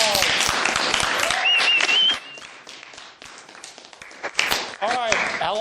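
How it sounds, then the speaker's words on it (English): A small classroom audience claps after a cadet's presentation in a military science class, a brief patter of applause mixed with overlapping voices and chatter, fading after a couple of seconds. "Round of applause."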